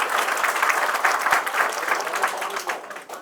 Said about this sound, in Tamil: தயவு செய்து கைத்தட்டுங்களா அவருக்கு